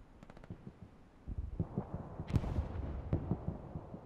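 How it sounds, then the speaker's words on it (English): Gunfire in an online shooter game thuds and cracks in a cluster of muffled, distant-sounding shots over a low rumbling background, with a few sharper reports standing out. "Are you being shot at?"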